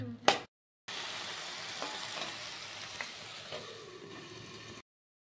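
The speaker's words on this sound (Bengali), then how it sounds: "আরো 5 মিনিট মানে ফ্রাই করলে হবে" Tomato frying in a pan for a Bengali mustard foli fish dish, a steady soft sizzle with faint stirring scrapes, heard after a brief silent gap at the start and ending abruptly.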